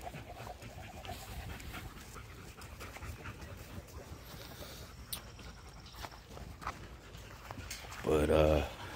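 Several kennel dogs pant softly at close range amid faint shuffling footsteps and low background noise, with a louder brief whimper near the end.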